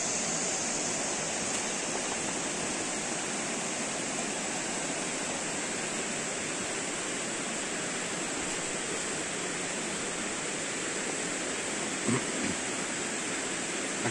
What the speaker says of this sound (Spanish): Vean cómo el agua brincó.